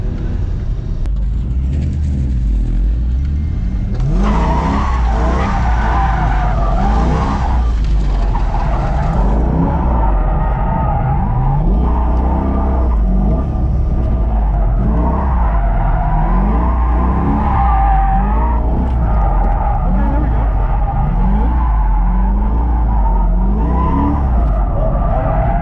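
A stock C5 Corvette drifts with sustained, loud tire squeal and skidding over a steady engine drone, the screech wavering as the car slides continuously throughout.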